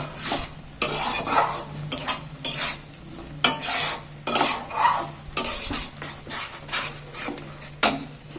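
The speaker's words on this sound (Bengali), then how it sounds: "এইবার আমি তেলটার মধ্যে এটাকে একটু নাড়াচাড়া করে একটু ভালো করে" A utensil scrapes and clatters in a pan, stirring a thick spinach paste as oil sizzles underneath, in irregular strokes with sharp knocks against the metal.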